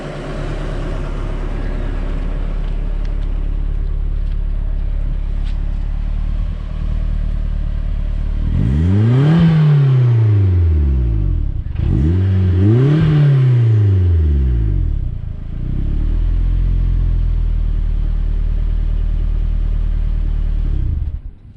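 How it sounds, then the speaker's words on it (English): A Mazda Miata engine idles steadily, then is revved loudly twice in quick succession, rising and falling, before settling back to a low idle. "we're gonna rev it up a few times"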